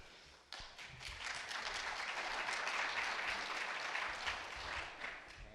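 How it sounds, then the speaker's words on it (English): An audience at a public hearing on state reapportionment breaks into sudden, sustained applause, a thick even roar of clapping that holds steady for several seconds. "If we could just hold the applause"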